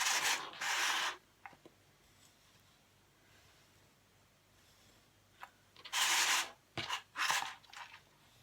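A bone folder burnishes a paper card in several short, loud scraping strokes, a bunch near the start and another cluster toward the end with quiet pauses between.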